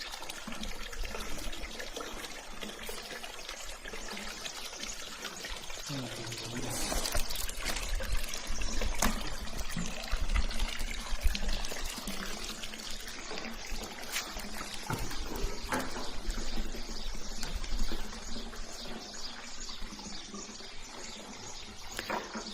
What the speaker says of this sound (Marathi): इथून तो गरम पाण्याचा झरा उगम पावलेला आहे आणि इथून ते त्याचा बायपास या कुंडामध्ये दिलेला आहे